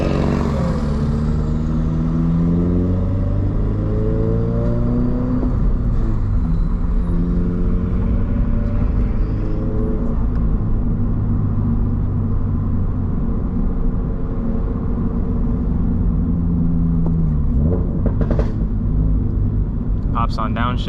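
Subaru BRZ fitted with a catback exhaust accelerating on a downtown drive, a loud, droning low engine note that climbs steadily through the revs, heard from inside the car.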